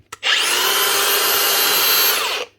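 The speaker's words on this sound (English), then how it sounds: "that's that wee Makita grinder up and running again and running smooth again" A repaired Makita DGA463 cordless angle grinder spins up from a brief click into a loud, steady high-pitched whine close by, holds smoothly for about two seconds, then winds down.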